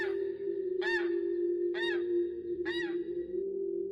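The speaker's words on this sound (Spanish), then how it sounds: "oí un graznido algo peculiar. Era como el de un pato o un ganso, pero mucho más fuerte y grave." Three loud, deep duck- or goose-like squawks sound at steady intervals over a constant low droning hum, each call harsh and nasal with no talk around them.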